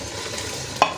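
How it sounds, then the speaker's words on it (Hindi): Chicken goes into a pan of cooking ground pumpkin for a chicken pumpkin curry, with a steady low sizzle and stirring and one brief scrape or clack near the end. "अब मैं इसमें शामिल कर दूंगी चिकन जो हमने निकाल लिया हुआ था"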